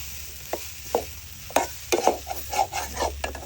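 Grated coconut roasts in a pan for a Kerala-style shark curry, with intermittent scraping stirs and soft crackling sizzles, close and fairly quiet, repeated irregularly.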